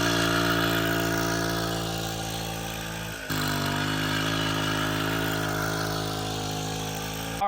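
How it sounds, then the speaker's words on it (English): A Puch E50 moped engine with an upgraded blue clutch spring drones steadily under a ride, its pitch sliding down and then jumping back up as it accelerates again. Close and continuous, with no talk. "Let's go ahead and take this thing for a ride, see the top speed"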